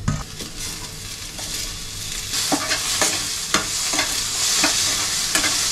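Tomatoes tossed into reddish fried onions in a hot pan, a constant sizzle broken by repeated scraping strokes of a spoon, the stirring growing louder and more rhythmic in the second half.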